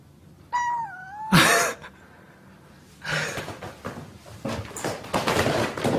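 A cat at a Korean cat cafe lets out a single rising meow up close, followed by a sharp burst and bouts of rustling, scuffling handling noise.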